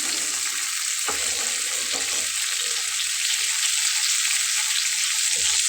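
Bhola fish from Barishal frying in a pan, a steady, loud broadband sizzle that holds unbroken throughout, with a couple of faint low knocks and no talking.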